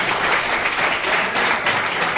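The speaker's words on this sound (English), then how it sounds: "So clap for everyone." Applause breaks out at a yoga university certification ceremony, with steady, dense clapping from an audience throughout.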